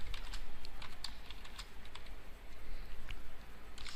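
Rapid, light keystrokes on a computer keyboard as a print command is typed into a Python IDLE shell, close and fairly quiet, with steady irregular clicking throughout.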